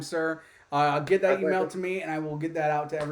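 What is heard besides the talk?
No everyday noises stand out.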